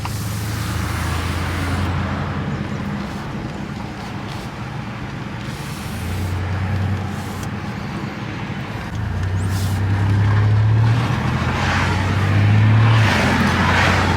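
A bone-stock, all-original GMC Syclone-style pickup truck drives along with a steady engine drone from inside the cab, its revs rising and falling through gear changes and getting louder toward the end.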